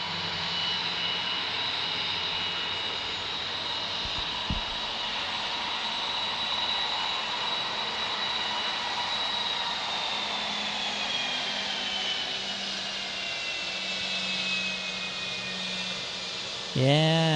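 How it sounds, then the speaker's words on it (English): A Boeing 717 jet airliner at Dallas Love Field gives a steady, loud engine roar and whine that holds throughout, with a high tone gliding slowly downward and some faint background voices. "Boeing 717."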